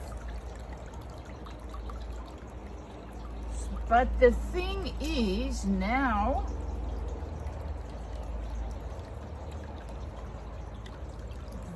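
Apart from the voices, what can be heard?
water trickling through kitchen sieve while making paper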